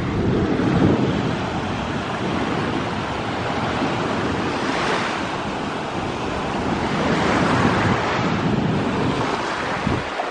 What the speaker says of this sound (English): So this is the Gulf of Mexico.